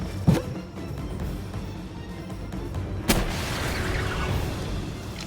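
A pal fired as a cannon in the video game Palworld, heard as one sharp blast near the start and a second booming shot later, each trailing into a rumbling wash of game sound.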